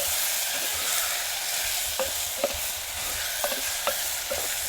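Coriander-cumin powder fries in oil in a pan, a steady broadband sizzle with a few sharp spoon taps and stirring clicks against the pan, alone without voices.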